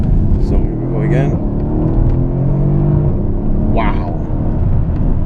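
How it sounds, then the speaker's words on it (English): A Mercedes-Benz CLS63 AMG accelerates hard, its engine and exhaust roaring close and loud with rising pitch sweeps and brief breaks between gears, while a man exclaims over it. "You get nice exhaust transition sounds, like a little clack or a popping noise in between gears, which sounds fantastic."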